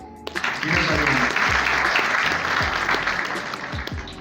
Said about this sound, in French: il faut vraiment les applaudir